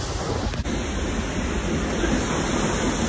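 Roaring waterfall in Prospect, a steady dense wash of falling water close by, loud and continuous with a brief dip partway through and no talking.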